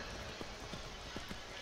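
Rhythmic hooves of a dwarven horse in Skyrim clip-clopping at a steady trot, soft and muted over a constant background hum.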